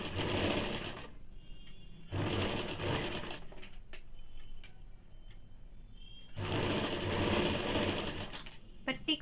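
A sewing machine stitches an elastic leg band onto baby panties in loud close bursts of rapid whirring, broken by quieter pauses with small mechanical clicks.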